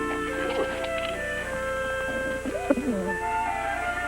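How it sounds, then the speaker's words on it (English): A female racing homer, a homing pigeon, gives soft, throaty coos in a few short rolling phrases, fairly close, over a steady low background hum. "Pidge is a homing pigeon, a racing homer, the aristocrat of her breed"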